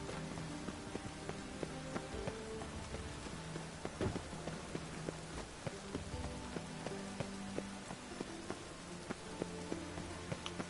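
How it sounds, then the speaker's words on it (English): Rain falls over a city in The Witcher 3, a steady patter of drops on surfaces with scattered sharper ticks and faint clip-clop beneath, held at a low, even level throughout with no speech. "Rain makes this city even more dreary."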